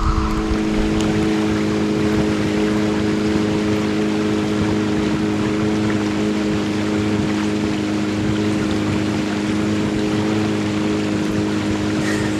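A motorboat cruises across water behind an island during a fishing trip, its engine a loud, steady drone with constant water rush and no break throughout.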